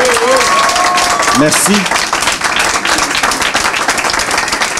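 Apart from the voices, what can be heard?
crowd applauding Bernard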